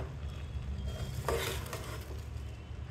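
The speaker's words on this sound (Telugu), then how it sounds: "రైస్ని మిక్స్ చేసుకుందాము" Spiced soaked basmati rice is gently mixed in a pan over a low flame for kushka rice, a soft steady stirring scrape with a faint sizzle and one brief louder scrape midway.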